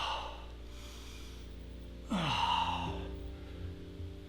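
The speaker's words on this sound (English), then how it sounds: "take a deep belly breath" A deep belly breath drawn during an abdominal stretch in a bodyweight recovery workout, one long audible inhale followed by a slower release, close and fairly quiet, with no talking.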